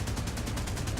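Hispano cannons on a Dewoitine D.510 fighter in War Thunder fire a rapid, loud burst of evenly spaced shots, a steady rhythmic thudding over engine noise throughout.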